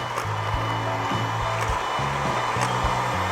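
Electric kitchen mixer whirring steadily while blending flour, milk and cocoa powder for brownie bakpao dough, with a continuous motor drone shifting pitch in short steps and no talking.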